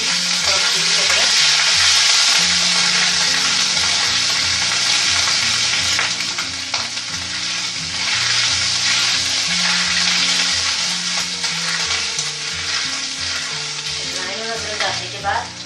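Carom (ajwain) seeds and ginger fry and sizzle in a pan while being stirred for a mooli sabzi, a steady loud crackling hiss that persists throughout, with a faint background tune but no talk.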